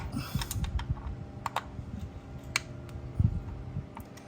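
Bolts on a Harley-Davidson derby cover being broken loose with a hand tool, heard as a series of sharp close metallic clicks and ratchet ticks scattered over quiet background, with no voices.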